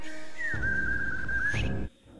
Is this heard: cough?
no